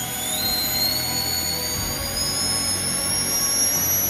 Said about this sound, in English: Okay, nice takeoff, not enough ground effects, so it takes off really easy.